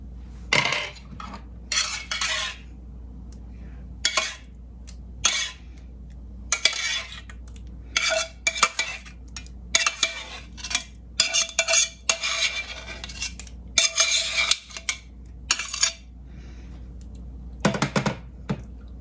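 Utensil scraping and clinking against a dish while lasagna sauce is spread, in bursts of close scrapes and taps separated by brief pauses, with no talking.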